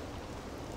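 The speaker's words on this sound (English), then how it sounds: "Of course it's raining." Rain falls in the video game Persona 5, a faint, even hiss of steady downpour with no other sounds over it.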